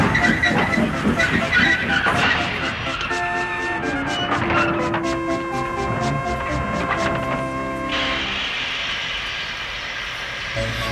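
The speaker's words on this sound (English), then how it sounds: "Edward came steaming in with all the old coaches he could find." Steam engine in the Trainz railway game arriving with a rake of old coaches, with a sustained tonal whine and rumbling roll, chuffing beats and long layered whistle-like tones that cut off abruptly, fairly loud throughout.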